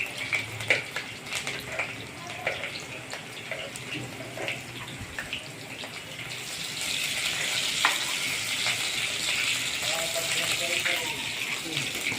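Chopped onion going into hot oil with cumin and mustard seeds for a raw banana curry, giving a steady broadband sizzle that grows louder and fuller partway through, with faint speech in the background.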